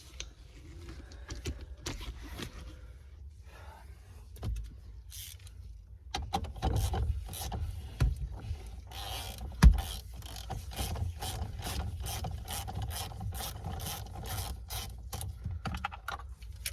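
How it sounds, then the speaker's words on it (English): A ratchet works loose the bolt holding the steering wheel on a Honda Civic Type R, in quick runs of close metallic clicks with small knocks and handling sounds, steady and near, no talking. "we could go ahead and take out the remainder of the bolt"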